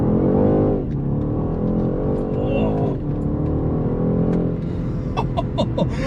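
A BMW 128 Ti, a front-wheel-drive hot hatch, accelerates hard from 0 to 60 mph, its engine climbing loudly through rising revs with audible gear changes and a brief tapping of clicks near the end.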